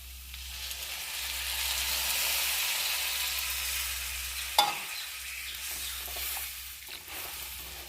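White coral tree leaf curry is poured over fried potatoes in a pan and sizzles with a soft, steady hiss, broken by a single sharp clunk partway through before the bubbling settles.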